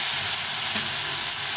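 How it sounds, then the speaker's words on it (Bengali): Tomatoes frying in a pan with onions, a steady close sizzling hiss that runs continuously without a break and with no talk over it. "টমেটোটা একটু ভাজা ভাজা হয়ে গেছে।"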